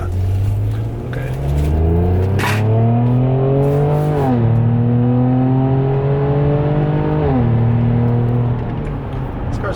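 Loud engine of a car accelerating hard with rising revs and gear shifts, the pitch climbing, dropping and climbing again over nearly ten seconds, close and dominant.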